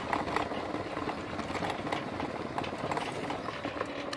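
A 12 volt gate motor with a weakening lead acid battery drives a gate open, giving a soft steady mechanical whirring and clattering hum at low level, continuous throughout with no speech.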